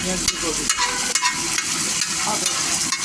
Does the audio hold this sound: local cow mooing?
no